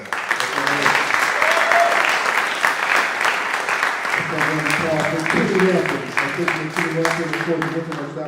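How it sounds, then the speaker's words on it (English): Sustained applause from a crowd, dense clapping throughout with voices and cheering mixed in underneath. "Let's have a round of applause for Ryan Kaiser."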